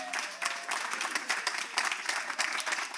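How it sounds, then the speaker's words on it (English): A telethon audience gives a steady round of applause for the production crew, dense overlapping claps filling the whole stretch at close range with no talk over it. "So let's give them a big round of applause."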